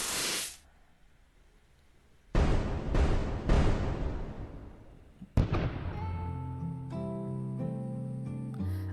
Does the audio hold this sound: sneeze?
no